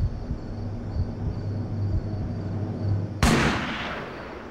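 A gunshot sound effect in a televised crime reenactment fires as one sudden, loud blast that cuts through a low rumbling background and then decays quickly.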